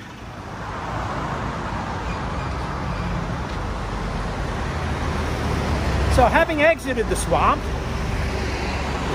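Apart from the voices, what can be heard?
traffic on Sukhumvit Road, Bangkok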